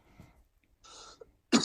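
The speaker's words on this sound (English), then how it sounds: "Coughing." A few short coughs, the first soft and muffled, then a breathy burst, and a final loud, sharp cough close to the microphone, separated by brief silences.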